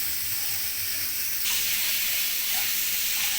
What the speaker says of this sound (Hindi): प्रेशर कुकर में दाल उबाल रहे हैं।